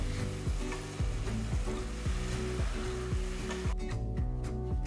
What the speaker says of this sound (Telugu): ఈ మసాలాలో ఉన్న తేమ మొత్తం పోయేంత వరకు ఈ మిశ్రమాన్ని వేయించాలి